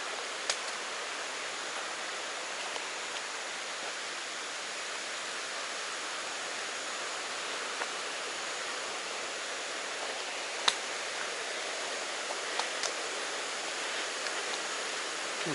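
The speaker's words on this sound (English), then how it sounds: "There's a little waterfall there" A small waterfall on a creek in overgrown laurel woods gives off a steady, even rush of falling water, faint and distant, unbroken throughout with no voices.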